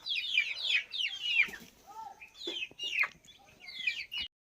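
Chickens in their room cluck and squawk in quick, bright bursts, several calls close together with short pauses, fairly near and alone without talk.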